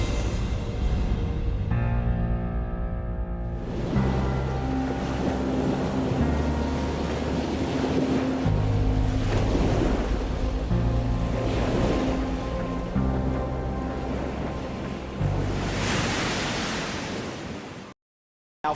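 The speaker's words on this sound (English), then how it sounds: "plenty of waves just coming through this shallow shore break here" Ocean waves crash and roll through a shallow shore break at a powerboat racing event, a loud continuous surf roar with swelling surges and a steady low rumble throughout, no voices.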